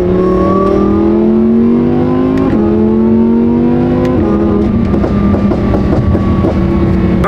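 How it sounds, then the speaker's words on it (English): A supercharged car accelerating hard, with a loud, close engine note climbing through the gears and a high whine rising alongside it, briefly dipping at each shift. "I hope that the camera picks up the whine"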